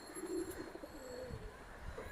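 A caged Jabra pigeon gives a short, low cooing burst near the start, followed by quieter murmuring coos that trail off over faint background noise.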